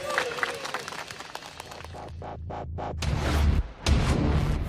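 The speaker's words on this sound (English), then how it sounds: "Please give a round of applause for Push to Exit" A studio crowd at a Robot Wars arena claps and cheers for the robot Push to Exit, a loud, steady wash of applause that swells near the end, with a voice in the mix.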